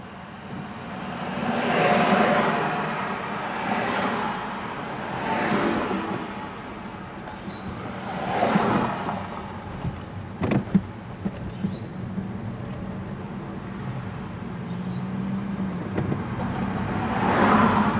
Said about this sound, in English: Traffic still backed up on the bridge due to heavy traffic in the Aptos Village